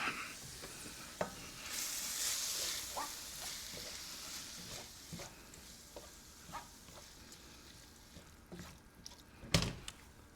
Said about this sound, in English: And then we're going to stir the stuff all around.